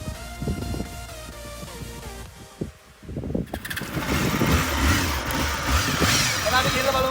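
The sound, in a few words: Honda Hornet motorcycle engine with original exhaust can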